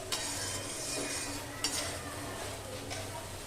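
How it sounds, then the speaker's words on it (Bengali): Eggplant cooks in a pan with a little water, the lid lifted as a utensil stirs it, giving soft scraping and a couple of faint clinks over a low, steady sizzle. "এবার আমি আবারও একবার ঢাকনাটা খুলে নেড়ে নেবো।"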